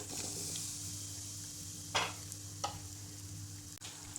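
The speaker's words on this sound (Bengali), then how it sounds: "তেলটা গরম হয়ে গিয়েছে। এখন আমি পটেটো বাইটসের টুকরোগুলো ঢেলে দিচ্ছি।" Pieces of potato bites frying in hot oil in a pan make a steady, faint sizzling hiss, with a few brief louder crackles and a light clatter near the end.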